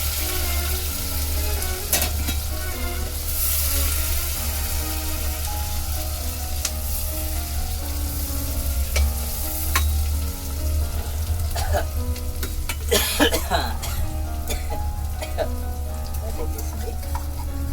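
Onions and green chillies fry in hot oil in a pan, with a steady loud sizzle close up and scattered clinks of stirring throughout.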